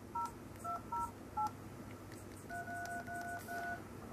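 Jolla phone dialer keypad tones: a handful of separate DTMF beeps in an uneven rhythm, then a few longer, steadier dual tones, clean and close over a faint background hiss.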